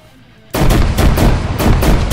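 A burst of loud, rapid gunshots in the video game Arma 3 erupts suddenly after a brief quiet moment, then keeps firing in close, heavy volleys.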